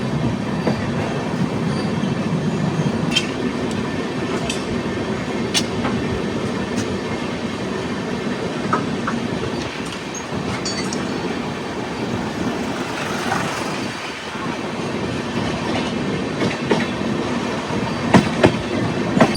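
The Howrah–SMVT Bengaluru SF Express creeps slowly along tracks under heavy track work near Rajahmundry, heard from inside an AC 2 Tier coach. A steady close rumble carries faint wheel clicks and occasional light squeals, with no talk.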